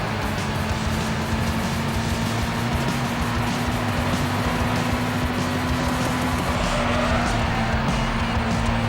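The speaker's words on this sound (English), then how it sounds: "it is perfect to experience the sound, the feeling, the weight of the car in turns, and the acceleration unique to each one" Race car engine droning steadily on the Super Speedway oval in a Gran Turismo racing game, a loud, continuous high-revving hum holding one pitch with faint tire noise over roughly nine seconds.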